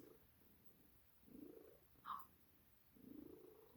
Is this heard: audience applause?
no